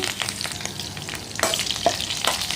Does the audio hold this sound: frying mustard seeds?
yes